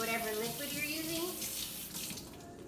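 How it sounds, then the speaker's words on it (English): Tap water runs steadily for a few seconds over a plastic lid being rinsed at a kitchen sink, a close, continuous splashing rush that eases slightly toward the end. "I like to rinse the lid off once I've opened it because I don't like a mess being on the outside."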